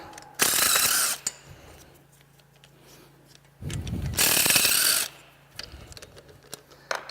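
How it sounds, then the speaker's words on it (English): An impact wrench pulls exhaust manifold studs on a Caterpillar 3406E C15 diesel engine, two loud close rattling bursts of about a second each with quieter clanks and handling noises between. "We should be able to pull them out with an impact."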